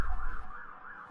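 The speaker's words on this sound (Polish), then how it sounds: "jeżdżą nam jakieś karetki za oknem" Ambulance siren wailing outside a window, a brief warbling tone that rises and falls, moderately loud and heard alone.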